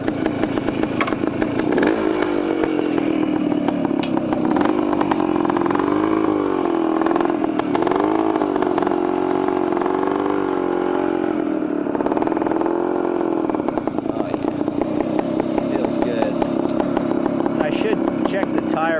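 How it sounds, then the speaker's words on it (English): Vintage 1972 OSSA two-stroke motorcycle engine running steadily close by, a buzzy, raspy drone whose pitch rises and dips with small throttle changes throughout. "Nothing like the sound and the smell of a vintage two-stroke."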